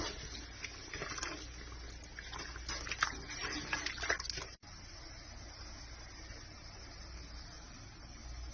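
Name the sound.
dandelion jelly with sugar boiling in a pot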